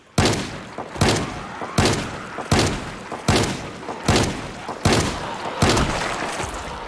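Firearm shots in Project Zomboid, about eight loud, evenly spaced blasts roughly a second apart, each with a short booming tail.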